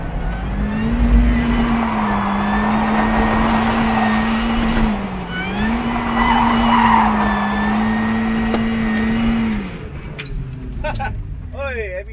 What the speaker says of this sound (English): you just lift off clutch, accelerate, and hopefully it will spin.